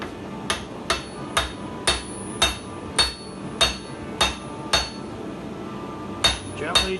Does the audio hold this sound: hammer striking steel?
yes